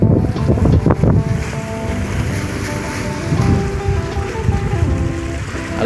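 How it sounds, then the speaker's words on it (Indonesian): Strong sea wind buffets the microphone at a shoreline fishing spot in Bangka Belitung on an overcast day, a loud, constant roar mixed with lapping water and waves, no speech. "Angin lumayan kencang"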